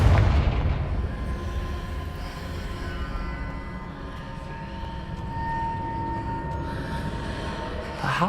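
Confringo fire-blast explosions in Hogwarts Legacy, heard as a booming burst at the opening that fades into a steady low rumble and hum, with another impact near the end.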